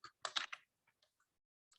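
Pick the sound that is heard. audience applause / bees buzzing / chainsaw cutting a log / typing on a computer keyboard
typing on a computer keyboard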